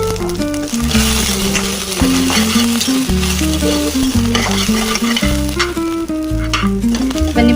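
Coriander and cumin seeds roast in a pan with steady sizzling and stirring, all under loud, melodic background music.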